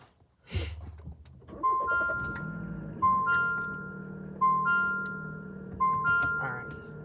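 A car engine is started with a brief cranking burst that catches and settles into an idle, followed by a repeating two-note dashboard chime pattern sounding several times, close and moderately loud.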